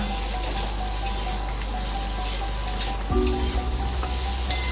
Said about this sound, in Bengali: এবার এর মধ্যে মাছের মাথাগুলো দিয়ে দেবো এবার গ্যাসটা বাড়িয়ে ভালো করে ভেজে নেব